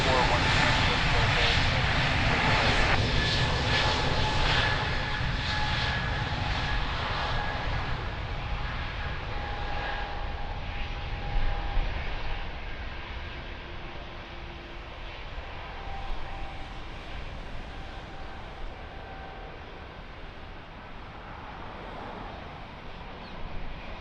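A fixed-wing aircraft takes off from runway 02 at Lisbon Airport, its engine roar broad and steady, fading gradually over about twenty-four seconds, with talk running over it.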